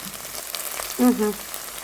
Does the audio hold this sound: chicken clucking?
no